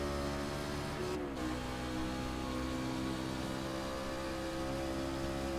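A race truck engine climbing uphill under steady throttle, a continuous close droning roar with a brief dip and pitch drop as a gear change comes through, then building again.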